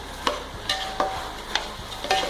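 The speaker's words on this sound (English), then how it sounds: "Let this fry." Beef biryani masala fries in a pan with lemon juice, a soft hiss punctuated by five regular, distinct scrapes and knocks of a spoon stirring, close and clear.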